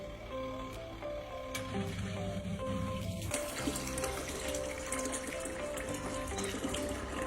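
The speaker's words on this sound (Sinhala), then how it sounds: "අපි මේ විදිහට අපේ පළවෙනි ටෙස්ට් එක මේ වොෂින් මැෂින් එක කරනවා" Water runs steadily into a washing machine during its first wash test, a continuous close splashing and gushing rush with faint mechanical hum beneath and no speech.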